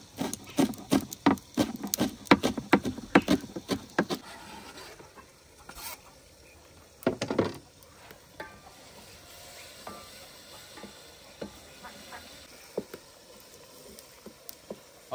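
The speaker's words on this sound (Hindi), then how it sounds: "कुटा हुआ अदरक और लहसुन अदरक और लहसुन की भी अच्छी तरह बुनाई करेंगे" Crushed ginger and garlic frying in a pan, with a busy run of sharp wooden spoon knocks and scrapes at first, then softer sizzling and occasional stirring clicks, no voices.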